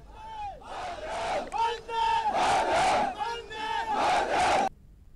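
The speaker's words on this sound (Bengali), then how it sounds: "সেনা ঘাটিতে ভারত মাতা কি জয় স্লোগান।" Soldiers at the Adampur airbase chanting the slogan Bharat Mata ki Jai, loud massed voices shouting in repeated call-and-response bursts with a strong rhythmic cadence, ending abruptly.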